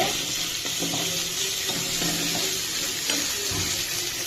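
Potatoes fry in a pan and are stirred with a constant close sizzle, while scraping stir strokes come through now and then; no voices.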